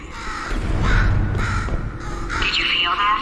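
A crow-like bird caws repeatedly in the video game Portal 2, harsh calls coming in bursts, with a voice speaking over them.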